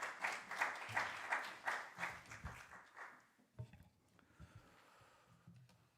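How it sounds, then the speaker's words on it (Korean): A church congregation at a university chapel service applauds to welcome the pastor, with a burst of clapping that builds and then fades into quieter scattered claps and rustling. "목사님 나왔을 때 우리 박수 한번 하겠습니다"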